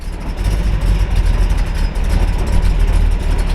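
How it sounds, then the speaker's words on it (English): A 1969 Ford Mustang 428 Super Cobra Jet V8 idles steadily nearby, a deep rumbling burble holding a constant low throb throughout, with no talking. "Thought we'd let you hear it run."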